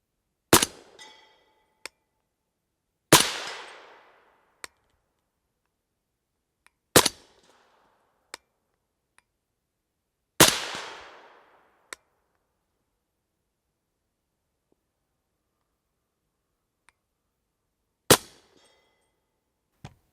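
Five sharp 300 Blackout rifle shots from a magazine of three subsonic and two supersonic rounds, each a loud crack with a short decaying echo, spaced irregularly several seconds apart with faint clicks and metallic clinks between.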